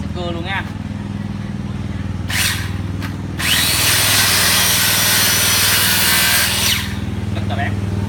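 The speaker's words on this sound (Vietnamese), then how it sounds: "Mình sẽ cưa luôn nha." A Ryobi 70 W handheld power saw cuts through material, a steady motorized buzzing and rasping drone that swells louder midway, then drops back to a lower running hum.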